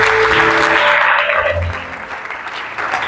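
A church congregation bursts into loud, close applause that swells at once, then thins and tapers over a few seconds.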